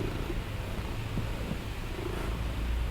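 A year-old kitten purrs close by in a soft, continuous rumble against faint room noise.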